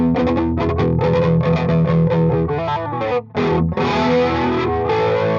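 Heavily distorted electric guitar through a factory preset on a VP4 modelling effects unit, playing a loud, chugging riff with rhythmic palm-muted bursts, a brief drop near the middle, then sustained ringing chords, alone without talk.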